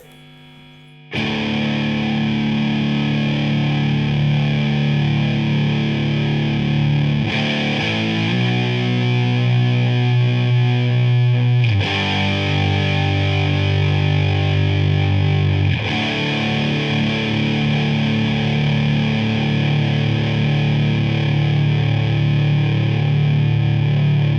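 Electric guitar with a fuzz tone through a Blackstar Dept. 10 AMPED 2, played loud and sustained as thick distorted chords that change every few seconds, with no talking.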